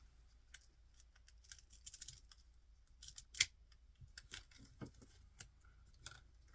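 Thread snipped off close with small scissors while tying a fly-tying dubbing brush, a series of faint, crisp clicks and snips spread through a quiet room with one sharper cut near the middle.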